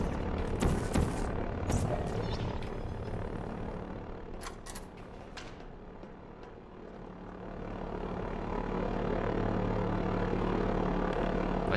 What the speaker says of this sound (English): Why does it sound like there's an airplane or something?